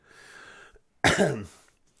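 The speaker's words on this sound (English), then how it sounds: "if you hear me sniffling and coughing this evening, the sinuses are acting up" A man with congested, irritated sinuses coughs once, close and fairly loud, after a faint murmur of background noise.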